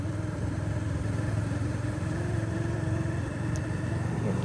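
A motorcycle carrying a food bag hung on its left side runs along the road on a long journey from Gaibandha to Dhaka, a steady loud engine drone with wind rush and no gaps, unbroken by speech.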